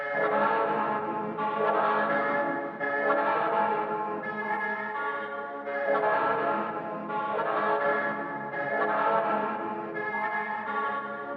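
A dark, reverb-washed sampled loop passed through an Abbey Road Vinyl emulation with lowered noise and crackle, plus distortion, swells in slow, steady waves with a bell-like, hazy tone for a beat production.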